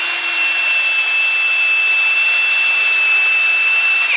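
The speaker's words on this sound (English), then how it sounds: "Just using a whizzy wheel here." A worn grinding wheel works on the front brakes of a Mercedes E550, a steady, loud, high-pitched whine held continuously with no pauses and no talking.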